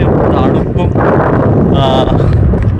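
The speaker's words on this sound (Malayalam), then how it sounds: "പ്രതീക്ഷിച്ച പോലെയല്ല നല്ലൊരു കാറ്റ്" Strong wind buffets the microphone with a loud, continuous roar at a coastal fishing spot in Bahrain, while a voice talks underneath.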